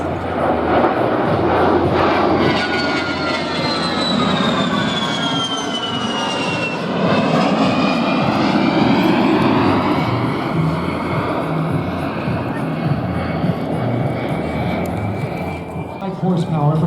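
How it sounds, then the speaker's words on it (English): An A-10 aircraft flies a four-point roll at the Wings Over North Georgia airshow in Rome, Georgia, its loud engine roar swelling and falling with a descending whine as it passes, steady throughout under an announcer's commentary. "Major Wilson in a 4-point roll displaying the crisp handling characteristics of the A-10"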